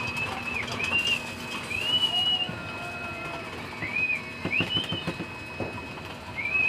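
Pigeons coo and call in short, repeated whistling notes, spaced a few seconds apart over a low background murmur.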